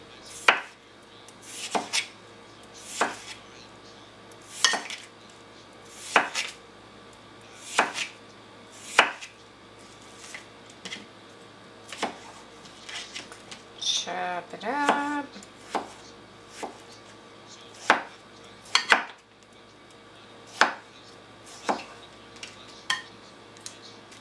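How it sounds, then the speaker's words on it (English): Cucumber being chopped on a cutting board for sushi rolls, with single knife strikes landing at a slow, steady pace, close and clear over a quiet room. "I'm gonna put some cucumber in this one. So I just"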